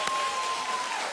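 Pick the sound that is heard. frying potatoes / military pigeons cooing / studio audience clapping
studio audience clapping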